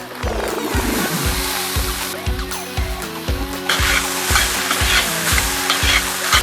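Rhythmic sizzling and scraping from tomato paste frying in a cauldron, with repeated stirring strokes over a steady frying hiss, close and fairly loud.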